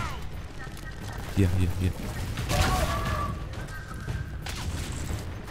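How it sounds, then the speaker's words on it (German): Gunfire in the video game Turok inside a factory facility, a few sharp booming shots with one heavy blast standing out amid game ambience, while someone talks briefly over them. "ich höre schon wieder ein paar Schüsse"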